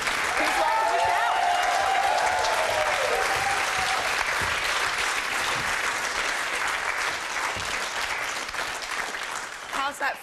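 Studio audience on a talk show breaks into loud, sustained applause mixed with cheering and whistles, dense and continuous for about ten seconds before starting to thin at the end.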